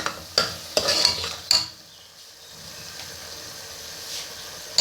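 Minced meat keema frying in oil in a pan, with a few sharp scraping stirs of a spoon early on, then a quieter steady sizzle continuing alone.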